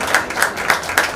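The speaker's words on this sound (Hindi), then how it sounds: "मुकेश जी के लिए आप लोग एक बार जोरदार तालियां बजा दें" An audience claps for Mukesh ji, with bursts of applause swelling in regular pulses, fairly loud and steady across the short stretch.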